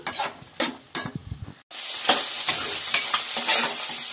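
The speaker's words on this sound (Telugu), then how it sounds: "ఇవన్నీ మసాలా అయితే ఫ్రై చేసుకుందామండి." Masala spices fried in a pan for fried rice, first several scraping stirs with pauses, then a sudden loud, steady sizzle that carries on close by without talk.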